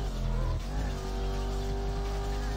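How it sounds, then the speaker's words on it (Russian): Car engine and exhaust in the PlayStation racing game Need for Speed High Stakes, a steady loud droning hum with a rising tone as the car accelerates, continuous with no talk. "Ну, звук выхлопа и мотора."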